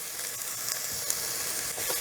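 Onion and tomato frying in a pan for a mutton keema and cabbage curry, a constant close sizzle and hiss with faint stirring, with no voices.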